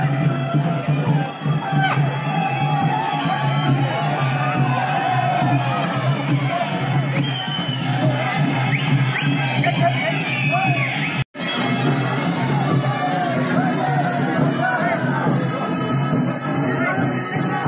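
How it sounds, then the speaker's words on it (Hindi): A large outdoor crowd fills the air with continuous chatter, shouts and cheering at a Nepali Congress election victory celebration in Manthali, Ramechhap, Nepal, in 2022. The dense hubbub stays steady throughout, with a brief dropout near the middle. "कितनी भीड़ है"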